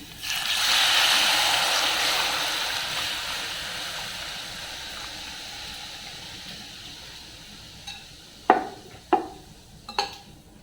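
Salted buttermilk stirred and poured into a pot for Maharashtrian kadhi, a steady watery swirl and trickle fading over several seconds, then a few sharp clinks of a spoon against the pot.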